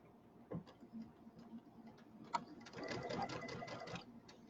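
Home sewing machine top stitching with red thread along a folded fabric edge of a settee pillow, 1/8 inch in; after a quiet start with faint clicks, a steady rapid mechanical ticking whir runs close and clear.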